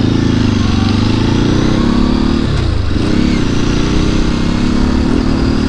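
A Ducati 749 motorcycle engine runs loud and close, revving with a dip in pitch midway before pulling back up to a steady drone.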